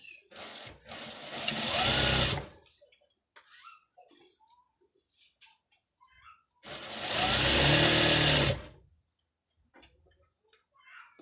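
A sewing machine stitches trousers in two sustained runs of about two seconds each, close and loud, separated by quiet handling clicks and small knocks.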